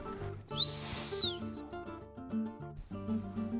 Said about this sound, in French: Un coup de sifflet long et le chien s'assoit.